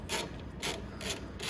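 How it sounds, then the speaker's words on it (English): A 13mm wrench ratchets on the control box bolts of an MMM 600 lifting unit, four evenly spaced rasping clicks in a steady rhythm, close and alone. "Remove the control box from the base using a 13mm wrench."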